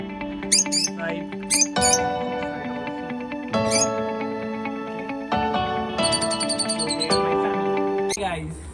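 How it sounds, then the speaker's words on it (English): Adult and baby lovebirds kept at home chirp in quick, high bursts close by, with sharp tweets scattered among a continuous tonal hum of other sound. "see, these are my birds. 2 yellow, 2 green. This is one baby"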